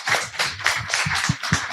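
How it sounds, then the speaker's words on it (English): Audience applause for resource persons at a Global South House event during COP 30 in Belém, short and moderately loud, with scattered individual claps standing out near the end. "can we give our resource persons a big round of applause?"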